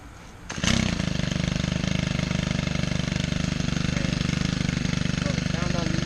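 A gas-powered lawn-care engine starts up and runs at a loud, steady, buzzing pace, with a rapid even pulse held close throughout.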